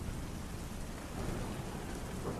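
Steady rain falls in a dense, even hiss with no breaks, soft and continuous throughout, with no voices.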